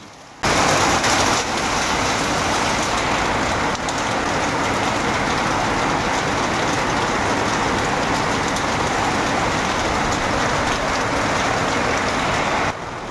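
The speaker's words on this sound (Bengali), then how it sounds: "জানালার সামনে কিছুক্ষণ দাঁড়িয়ে বৃষ্টির আনন্দটা উপভোগ করলাম।" Steady rain falls outside a window, a dense, even hiss of drops that holds loud and unbroken from start to finish with no voices over it.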